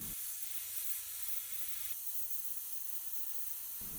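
An airbrush with a 0.2mm Mobius needle sprays MRP Insignia White, thinned 50-50 with Mr. Leveling Thinner, onto a 1/48 scale A-4M Skyhawk model. It makes a steady, close airy hiss that runs unbroken for the whole stretch, with no talking.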